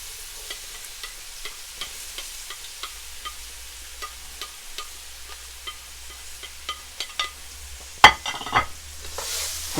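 Curry seasoning fries in a pan while a utensil stirs, producing soft scraping taps over a quiet sizzle, with a sharper clatter near the end.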